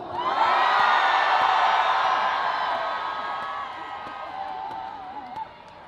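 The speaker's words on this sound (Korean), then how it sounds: "충주에 살고 계신 분들만 함성!" A large festival crowd at a closing ceremony in Chungju roars and whoops in answer to a call from the stage, loud at first and then fading over several seconds, with a voice carrying above the cheer near the end.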